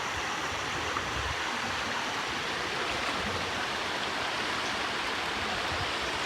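A waterfall roars as a steady, dense rush of falling water, close and loud without pause, with no voices heard.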